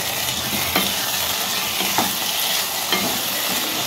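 Chicken Kolhapuri masala with red chilli powder being stir-fried in a pan, a continuous loud sizzle with a few scraping stirs spaced about a second apart.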